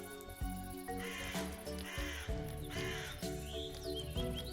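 A bird gives several short, crow-like cawing calls in a Minecraft hardcore session, set over a steady layered tonal background with no talking.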